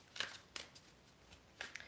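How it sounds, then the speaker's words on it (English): Tarot cards are shuffled by hand in quiet, short riffling bursts, soft and close, separated by brief pauses. "Man, these are taking forever to shuffle."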